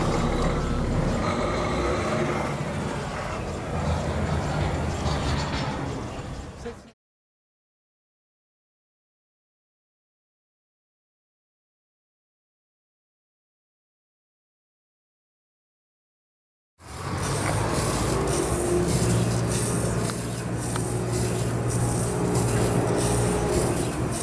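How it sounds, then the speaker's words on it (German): A 5-inch live steam model locomotive, a DB BR 01 202 at 1:11 scale, runs on a test firing with steady mechanical clatter and hiss. Its running breaks off into about ten seconds of total silence, then resumes with a steady tone. "Mit dem letzten Druck im Kessel und den letzten Umdrehungen verabschiedet sich diese Lok aus unserem Betrieb"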